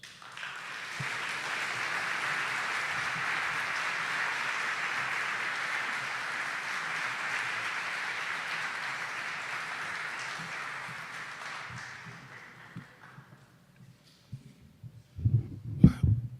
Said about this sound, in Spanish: démosle la bienvenida al doctor Manuel Hernández Ruiz Gómez con un generoso aplauso